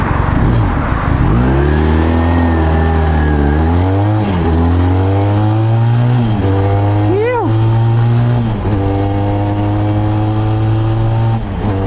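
A motorcycle engine revs and shifts through gears while riding in traffic, loud and close, rising in pitch with each pull, dropping at each shift, then holding a steady drone with wind rushing past.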